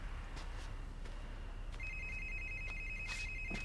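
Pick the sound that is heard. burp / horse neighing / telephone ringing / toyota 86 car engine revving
telephone ringing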